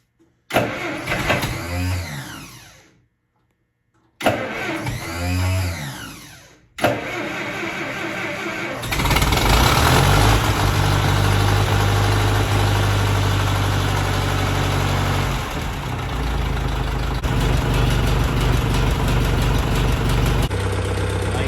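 A Massey Ferguson 35 tractor with a Continental Z134 engine cranks over in a few strained bursts with pauses between, then catches and settles into a loud, steady running rumble close by.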